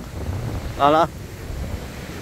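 Sea waves and wind churn along a shore after typhoon Uwan, a continuous low wash and rumble, with a short voice cutting in briefly near the middle.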